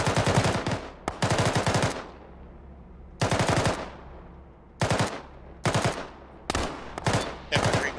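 A squad engages the enemy in Arma: loud close bursts of automatic rifle fire, repeated in several sharp volleys separated by short gaps with echoing tails.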